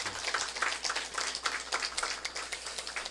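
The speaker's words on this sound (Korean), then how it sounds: "하나님께 우리가 영광의 박수를 올려드리시기 바랍니다." A church congregation at a Sunday worship service claps together, a moderate burst of many hands with a slightly uneven rhythm, heard from across the room and fairly quiet.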